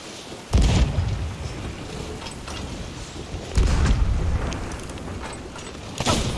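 Heavy booms of ship cannon fire in Sea of Thieves land at intervals, each followed by a rumbling tail over a noisy background, loud and close.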